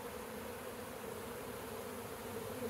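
A honeybee mating swarm flies back into its hive, producing a faint, steady, continuous buzzing drone from many bees, with no voices.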